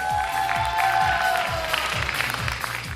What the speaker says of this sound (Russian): Здесь отдельные аплодисменты.